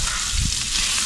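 Calabresa sausage sizzling over a wood fire, a continuous hissing fry that holds steady and fairly close, with no voices.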